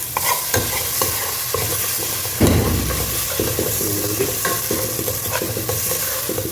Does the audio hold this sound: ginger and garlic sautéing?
yes